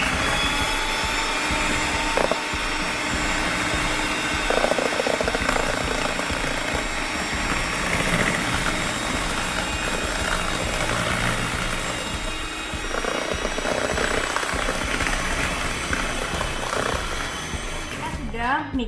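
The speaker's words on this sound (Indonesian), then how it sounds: "Gula pasirnya sudah kita masukkan ke dalam wadah, lalu akan kita mixer. Kita mixer dengan kecepatan rendah aja ya." An electric mixer beats granulated sugar at low speed, giving a steady, loud motor whir that runs unbroken for about nineteen seconds and cuts off at the very end.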